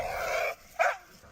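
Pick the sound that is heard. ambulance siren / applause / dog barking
dog barking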